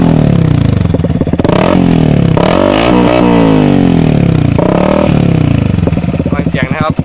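A Yamaha R15 motorcycle with a loud aftermarket exhaust revs hard and close, throttle blips rising and falling in repeated surges over a steady rumbling idle.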